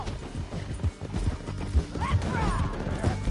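Rhythmic clip-clop of horse hooves at a brisk pace in Red Dead Redemption 2, close and steady under game noise and shouted voices.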